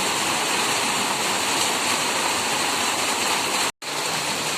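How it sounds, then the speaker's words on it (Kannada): Heavy rain pours down as a dense, loud, continuous hiss and roar close by, broken only by a brief cut near the end; no voices. "ತುಂಬ ಜೋರು ಮಳೆ ಬರ್ತಾ ಇದೆ"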